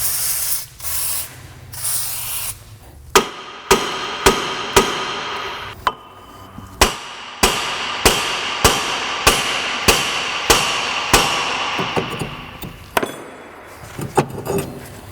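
A hammer strikes the brake rotor on a 1998 Ford Contour about a dozen times in a steady rhythm of sharp, ringing metallic blows, after a short hiss of penetrating spray.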